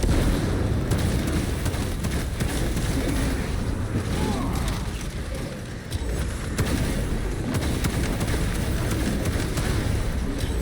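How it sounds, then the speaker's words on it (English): A frag grenade explodes amid dense combat in the Space Marine 2 video game, with heavy booms and rumbling blasts layered under continuous loud gunfire and battle noise. "Frag grenade out!"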